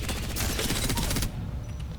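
A Devotion gun in the video game Apex Legends fires a rapid, loud automatic burst of shots close up, then stops abruptly just past the middle, leaving quieter game background sound.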